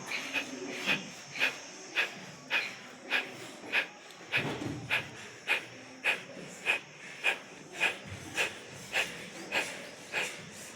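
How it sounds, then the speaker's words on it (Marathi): Forceful nasal exhalations of kapalbhati pranayama breathing, sharp rhythmic puffs repeating about every second and a half, close and clear against a quiet background with no talk. "कपालभाती करताना आपल्या श्वासाचा आवाज येतो,"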